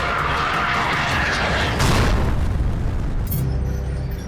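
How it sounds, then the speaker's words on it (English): Artillery barrage explosions from a war documentary on the 1973 Egypt–Israel tank battle in Sinai, a loud rumbling boom that swells mid-clip over continuous dense roar, with a sharper crack near the end. "After a massive artillery barrage and wave after wave of airstrikes"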